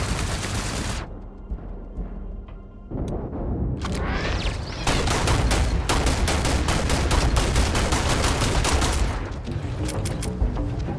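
Rapid bursts of automatic turret gunfire in the sci-fi shooter Starfield, loud and close, with short pauses between volleys and dense machine-gun-like crackle.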